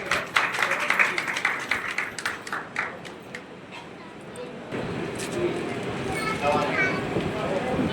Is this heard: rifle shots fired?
no